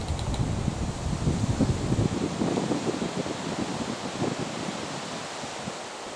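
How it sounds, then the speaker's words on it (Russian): Strong wind on the Pra River while fishing roars steadily across the microphone, a dense buffeting rush with low rumbling gusts, loudest early and easing slightly toward the end. "Ветрище вообще."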